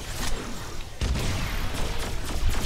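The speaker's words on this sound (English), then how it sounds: "Takes so long to recover from the sniper shot." In the video game Agents of Mayhem, a sniper rifle cracks out as a sharp, heavy shot midway through, surrounded by other bursts of gunfire and booming combat noise.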